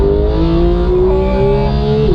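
Porsche GT3 engine revving hard under throttle, a loud, close, sustained rising wail of the flat-six with no other sounds.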